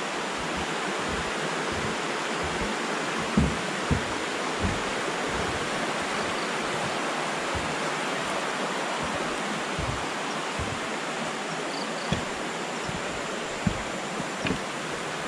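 A river rushes at a confluence in the forest, a steady broadband roar of flowing water that stays loud and even throughout, with faint occasional knocks.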